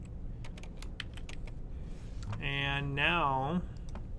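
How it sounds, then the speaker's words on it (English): Code is typed on a computer keyboard in the Flash ActionScript editor as a quick run of light, close key taps. A voice then speaks over the last taps. "when I type that period, I get the code completion that I'm looking for"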